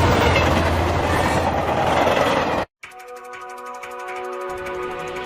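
An anime train runs along rails with a loud, dense rumble; after a sudden cut, a steadier rhythmic clatter of wheels over track joints continues with tonal hum.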